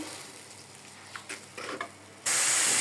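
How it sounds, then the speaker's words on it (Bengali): Tomato curry with turmeric, chili powder and salt goes into a hot pan, setting off a sudden loud, steady sizzle after a few soft clinks and stirring sounds. "এখন আমি টমেটো তরকারিটা বসাই দিতেছি"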